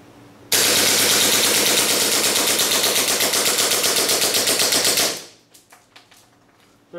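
A WE G18C airsoft pistol fitted with a steel slide fires a long full-auto burst, a loud, rapid, even clatter of shots lasting several seconds that stops abruptly, followed by a few faint mechanical clicks.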